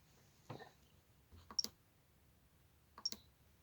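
Trim buttons on a Jeti radio transmitter click sharply and faintly nearby, a few isolated clicks with pairs of quick taps, over a quiet background and without talking.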